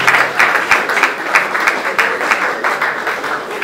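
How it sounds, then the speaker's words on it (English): A crowd at a Bible school PhD graduation ceremony applauding steadily and fairly loudly, dense clapping that holds for several seconds without letting up. "Please clap for him as he comes forward."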